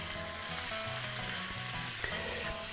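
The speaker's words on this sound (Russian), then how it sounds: "Во-первых, надо слегка обжарить свинину." Steady, close sizzling of pork ribs frying in hot sunflower oil, a continuous crackle with occasional sharper pops and no talking.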